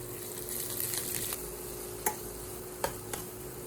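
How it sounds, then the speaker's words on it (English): Shredded cabbage stir-frying for instant noodles gives a steady, soft sizzle that runs throughout, with a few sharp clicks of a utensil against the pan near the end. "Add the shredded cabbage first"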